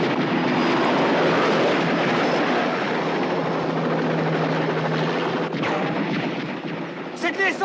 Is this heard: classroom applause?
no